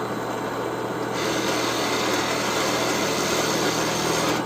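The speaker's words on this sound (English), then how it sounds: "Taking my time here and drilling a little bit at a time." A power drill bores steadily into the mahogany neck of a 1985 Alvarez Yairi DY76 guitar during repair, a close, continuous high whine with grinding texture that rises in intensity about a second in; no voices.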